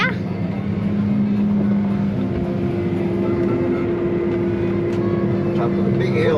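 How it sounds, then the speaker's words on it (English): A tractor engine drones steadily in the cab while chopping a field, a loud continuous hum with a constant pitch and occasional light rattles, with speech over it at times. "I'm in a tractor"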